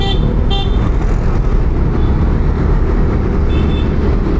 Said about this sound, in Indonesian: Orang pada mau belok nih, mobil, motor pada mau belok.